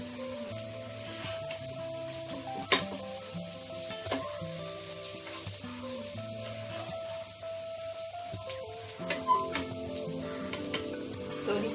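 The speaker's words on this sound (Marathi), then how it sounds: "दोन्ही साईडने चांगली भाजून घ्या, खरपूस भाजली पाहिजे।" Brinjal slices frying in a pan give a continuous close crackling sizzle, dotted with occasional sharper pops and spits, steady in level throughout with no talking.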